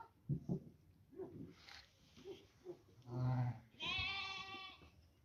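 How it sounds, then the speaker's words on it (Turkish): Lambs on a farm on a foggy winter day bleat several times, with short low calls early on and then two longer, louder wavering bleats close by, with no one talking. "Kuzularımız."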